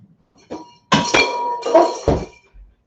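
A frozen mixing bowl lifted out and set down for peach ice cream, giving a few loud, close hard knocks and clinks, a heavy thunk, then a short ringing scrape before silence.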